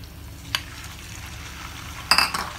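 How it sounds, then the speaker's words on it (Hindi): Chicken dropped into hot oil flavored with crushed garlic, giving a steady low sizzle with a brief clatter near the start and a louder burst of frying and clinking toward the end, no voices. "अब मैं इसके अंदर डालूँगी चिकन"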